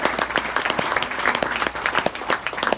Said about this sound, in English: give everyone a nice big round of applause at Carnival